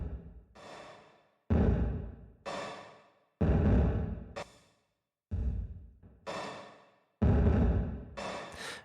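Guitar reverb colored by an overdrive pedal: five separate swelling, gritty washes of sound, each blooming and decaying into silence before the next, fairly quiet overall.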